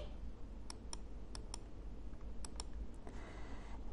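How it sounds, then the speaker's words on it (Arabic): Computer mouse left-button clicks while dragging across spreadsheet cells, a series of sharp, close, isolated clicks spaced irregularly over a faint background hiss. "اضغط كليك شمال بالماوس واسحب"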